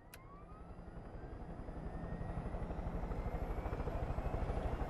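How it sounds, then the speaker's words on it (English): A large helicopter in the video game Far Cry 5, its rotor chopping steadily and growing louder and closer over a few seconds, with a rising engine whine above the beating blades. "This is much bigger helicopter."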